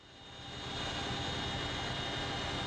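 A military helicopter taking off for a night commando raid builds from a quieter start into a steady loud engine roar with a high whine, continuous and close.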